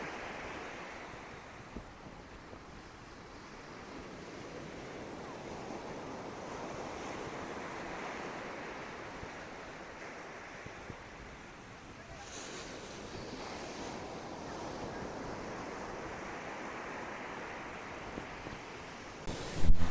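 Sea waves wash continuously onto a beach in Mumbai, a steady broad roar of surf with gentle swells in loudness and some wind buffeting, no voices.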